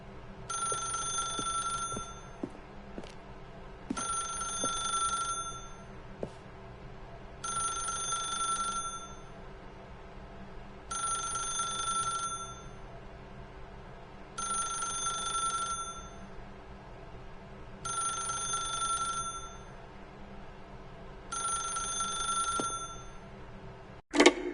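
A telephone rings in The Stanley Parable, with about seven evenly spaced ring bursts separated by short pauses, fairly quiet over a low background hum, with no talking.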